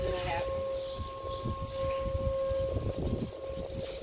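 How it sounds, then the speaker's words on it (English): A distant tornado warning siren holds a steady high tone across the whole stretch under a clear sky, with soft outdoor noise and faint movement underneath. "that's a frickin' tornado siren."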